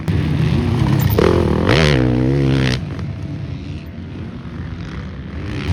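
Ducati motorcycle with a Desmo engine revving hard at a motocross track, a loud rising and falling rev burst for a couple of seconds before settling to a lower rumble amid the track's background noise.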